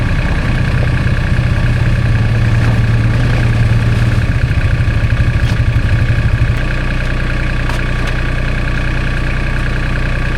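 A loader tractor's engine idles steadily at close range, a loud continuous low rumble with a slight rise in pitch partway through before settling back to an even idle, with no talking.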